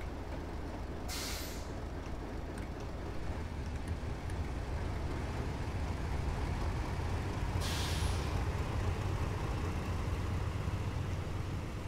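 In Train Simulator 2021, a Class 58 diesel locomotive hauling loaded HAA coal wagons on the Great Western Main Line releases its air brakes in two short, sharp hisses over a constant low engine rumble.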